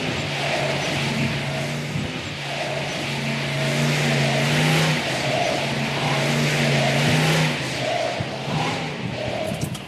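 A classic muscle car, one of a Boss 429, GTO Judge, Challenger HEMI, GS455 or Chevelle LS6, runs a slalom course with a steady loud engine drone that rises and falls through the turns, heard from close by without speech.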